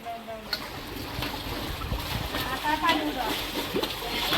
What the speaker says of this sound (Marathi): उडव पाणी नव्या